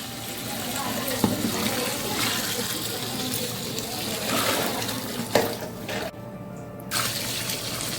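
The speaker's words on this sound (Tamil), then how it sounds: "தேவையான அளவு தண்ணி." Water poured into a cooking pot for vegetable biryani seasoned with Sakthi biryani masala, a steady rushing splash that runs continuously and cuts out briefly near the end before resuming, with faint talk in the background.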